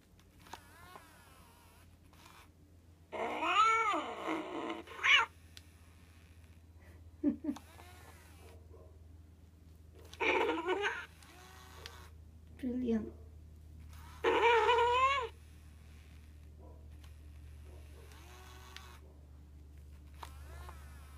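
A secondhand plush toy lion with a sound box gives electronic animal cries when its ear is pressed: several short wavering bursts spaced a few seconds apart, fairly close and loud over a low steady hum.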